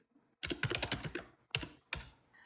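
Fast typing on a computer keyboard, close-up clusters of rapid clicking keystrokes in three short bursts separated by brief pauses.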